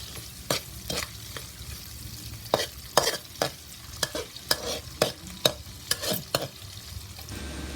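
Tofu frying in hot oil with garlic and onion, a steady close sizzle broken by repeated sharp scraping stirs of a utensil against the pan.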